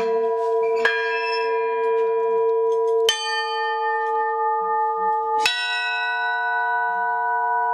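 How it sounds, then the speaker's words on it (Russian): Three loud, resonant strikes of a monastery's church bells in Adygea, spaced a few seconds apart, each ringing out with a long, rich hum that sustains between strokes. "В колокольнике висят три колокола, в которых разрешается звонить всем желающим"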